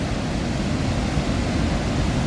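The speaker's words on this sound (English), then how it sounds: "just stay quiet and listen to the sound of the falls" Niagara Falls waterfall gives a constant broad roar heard from a viewing point, a steady, full wash of noise with no talk.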